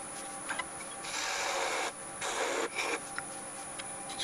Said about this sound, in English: Just clearing away some of the waste timber.